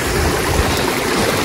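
A river stream beside a suspension bridge, heard as a continuous dense rush of flowing water, close and loud, with no other sounds.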